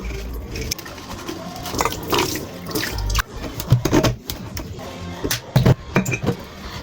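A container rinsed under a running kitchen tap, with steady splashing water broken by clinks and knocks as the vessel is handled and turned, all close and fairly loud.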